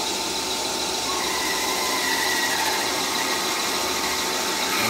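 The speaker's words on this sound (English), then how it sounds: "So I'm going to drill this part with this twist drill." A lathe drilling a part with a twist drill gives a steady high-pitched machining squeal with a constant motor drone, continuous and loud throughout with no talking.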